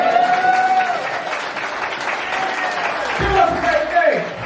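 Applause from a live audience at a poetry slam finale, a sustained, fairly loud wash of clapping under tonal cheering or voices, swelling near the end.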